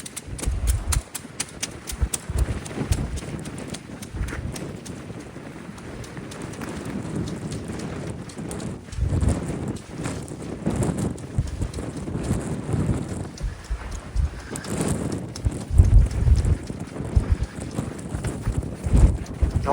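Strong, cold wind on the Bridlington seafront buffets the microphone in loud irregular gusts and thumps throughout, with the rumble rising and falling.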